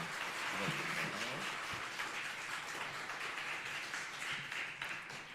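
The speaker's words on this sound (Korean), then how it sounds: "여러분들 더 힘있게 한번 더 박수해 주시기 바랍니다" A church audience claps to welcome a missionary from Uzbekistan, giving soft, faint, scattered applause that carries on at a steady level and tapers slightly near the end.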